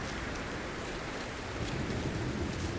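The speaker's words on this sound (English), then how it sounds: "The rain is peaceful." Rain falling in the video game Red Dead Redemption 2, a faint, steady wash of rainfall with a low rumbling undertone, even and continuous with no voices.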